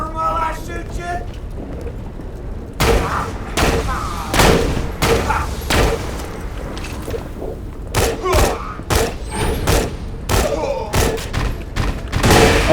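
Video game gunfire, with bursts of heavy shots and thuds in irregular clusters, loud and near, broken by short pauses.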